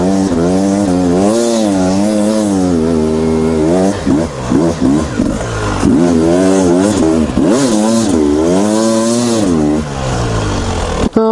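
A 300cc dirt bike engine revs hard on a sand pit, loud and close, with a sustained throttle that rises and falls through several rapid blips in the middle before holding high again.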